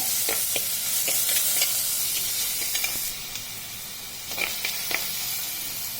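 Onions with ginger garlic paste sizzling in a clay pot while being stirred, a steady loud frying hiss broken by repeated scraping and clinking strokes of the spoon.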